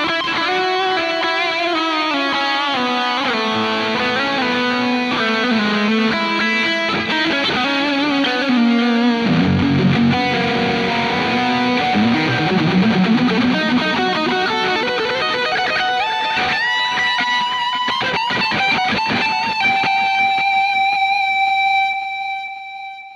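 Distorted electric guitar lead solo through a Zoom G3XN multi-effects processor, loud and sustained with fast melodic runs and long held notes, ending on a ringing note; no voices.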